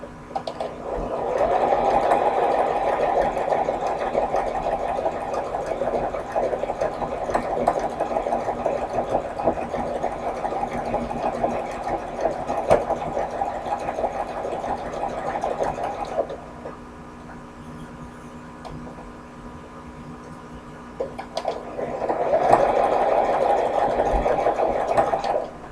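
A sewing machine runs steadily, stitching fabric in a long continuous whir, stops briefly, then starts up again near the end; close and fairly loud with no talking.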